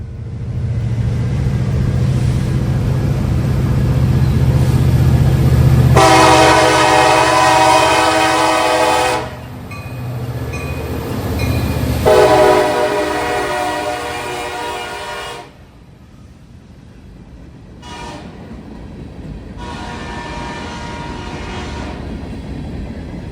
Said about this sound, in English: L332, on its weekly round trip between Marysville, Ohio and Columbus, Ohio, with a very familiar face in charge today, which came in the form of CSX 4720, the Employee Appreciation SD70 Mac